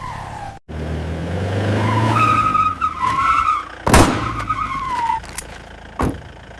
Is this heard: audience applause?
no